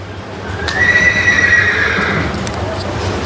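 A mare whinnies loudly nearby at a horse fair in Nabha, a long wavering neigh, with hoof clops and background chatter around it.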